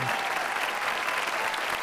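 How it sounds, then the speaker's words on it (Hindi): An audience at a grand poetry mushaira applauds, a dense, even burst of clapping from a large crowd that fills the short span without pause. "जोरदार तालियों से इस्तकबाल किया जाए"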